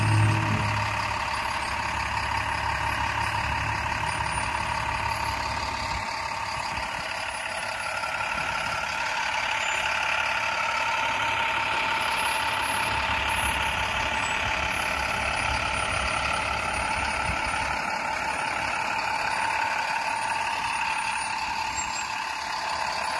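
A tractor trailer truck slowly backs up between cones during an offset-left maneuver, its steady engine drone running beneath a continuous series of high reversing beeps, loud and constant throughout with no talk.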